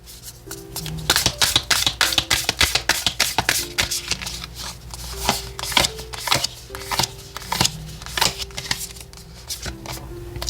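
A deck of oracle cards being shuffled by hand in repeated crisp riffling bursts, close up, over faint steady background music tones.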